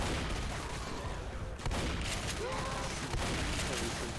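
Pistol fire aimed at a Tank during a tense zombie-game versus match, shots crackling in a busy, noisy mix while players talk and shout over the action.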